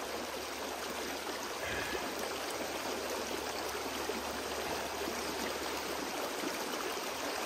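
Steady rushing water flows through a gold prospecting sluice, a continuous close-up wash of turbulent stream sound with no talking.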